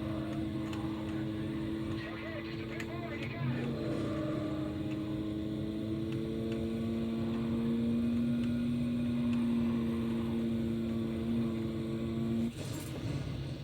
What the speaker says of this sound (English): this Wankel engine is driving me forth into the blue yonder